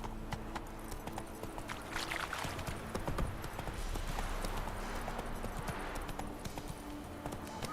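Horse hooves clip-clopping at a steady trot in The Witcher 3: Wild Hunt, a close, even rhythmic beat over faint ambient game sound and music.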